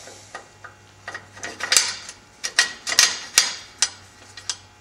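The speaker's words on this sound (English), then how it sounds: "So I'll put these lifters in here now." Metal valve lifters dropped one by one into a V-twin engine block, giving a run of light, irregular metallic clicks and taps, close up, with no talk.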